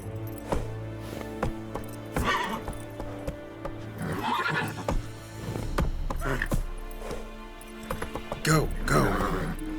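The horse Roach in The Witcher 3 video game neighs and whinnies several times while hooves clip-clop along at a gallop, with game music and voices underneath.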